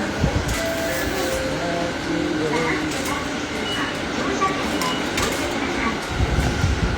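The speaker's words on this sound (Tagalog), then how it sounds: "Pagsakay namin ng tren," Rumbling interior of a moving train in Tokyo, steady rattling and low mechanical noise throughout, with people talking over it.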